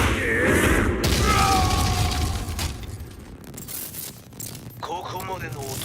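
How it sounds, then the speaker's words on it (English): Explosion at the Mishima dojo in the video game Tekken 7: a loud booming blast with crashing debris that fades into rumbling, followed by a brief metallic ringing near the end. "Explosion confirmed at the Mishima dojo."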